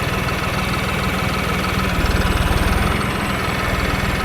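A New Holland T4.80 tractor engine runs steadily at a loud, close, even chugging pulse with no one speaking.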